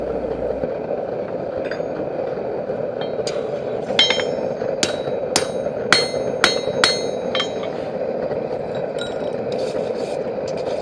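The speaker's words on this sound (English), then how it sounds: "I'm going to enlarge the hole with my square punch and make sure my nails fit through it" A hammer drives a square punch into forged iron to enlarge a hole, giving a run of sharp metallic strikes, about a dozen in quick succession, over a steady background hum.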